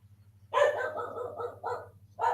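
Several excited dog barks come in quick bursts, fairly close and loud, over a steady low electrical hum, with a short pause before a final bark.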